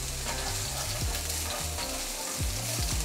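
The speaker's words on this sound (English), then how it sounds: "I'm gonna saute them up." Red and yellow bell peppers and green onions are sautéed in a pan for lasagna, producing a continuous, close, loud sizzle with a few low scraping sweeps and no speech.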